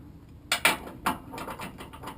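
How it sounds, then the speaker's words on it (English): A 1/2 inch ratchet fitted with a 15/16 socket clicks during upper and lower control arm work on a Ford F150, giving a few sharp, close ratcheting clicks and then softer repeated clicks. "I have a 1/2 inch ratchet, and I have a 15/16"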